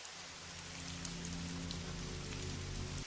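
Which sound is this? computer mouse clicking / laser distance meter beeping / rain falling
rain falling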